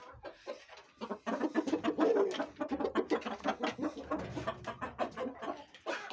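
Chickens cluck and cackle busily in a close, dense series of short calls, with an Indian turkey kept among the hens, the flock loud and continuous throughout.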